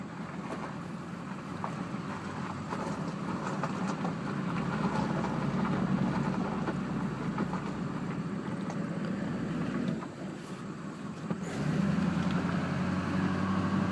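A 2001 Duramax turbo diesel HD 2500 pickup drives down a paved road with steady engine drone, tyre roar and wind buffeting. The noise dips briefly near the end, then returns as loud as before.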